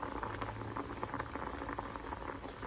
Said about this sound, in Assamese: এতিয়া আলু বইল হৈ আছে